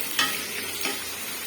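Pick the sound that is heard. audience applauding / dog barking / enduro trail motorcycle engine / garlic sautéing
garlic sautéing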